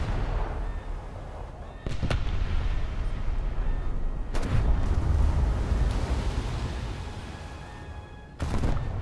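A British battleship's magazine detonates in a naval combat game, a deep rumbling blast over continuous low battle noise, with sharp booming strikes near the start, middle and end.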